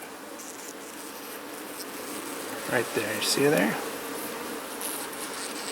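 Honeybees hum steadily inside a hive box during the release of a queen into a queenless split, a constant close drone beneath a brief stretch of spoken words.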